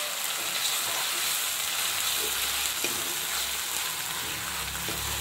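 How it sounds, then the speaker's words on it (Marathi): Ground green chilli paste fries with golden-brown onions in a pan, giving a steady, even sizzle with a few faint stirring knocks, no talking. "हिरव्या मिरच्या ह्या कच्च्या असल्यामुळे आता हे वाटण थोडं फ्राय होऊ द्यायचं आहे।"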